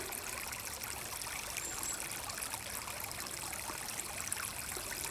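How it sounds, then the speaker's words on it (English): Steady running water of a stream in Colonel Francis Beatty Park, Charlotte, North Carolina, a continuous bright rushing and trickling wash with no talk, even in level throughout. "I could just sit and listen to running water all day long."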